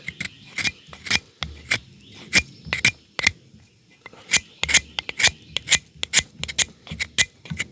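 Wet fat wood scraped with a blade, a series of sharp dry rasping strokes in an uneven rhythm, close and fairly quiet, with brief pauses between scrapes and no talking.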